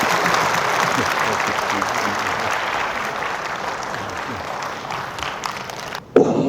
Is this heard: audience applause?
yes